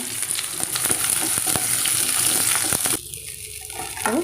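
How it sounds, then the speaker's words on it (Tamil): Onion and garlic sauté in sesame oil, a close, loud sizzle with scraping stirring strokes for about three seconds, then quieter, easing before a final scrape. "வெங்காயமும் பூண்டு போட்டு இது நல்லா பொன்னிறமாக வதக்கிக்கலாங்க"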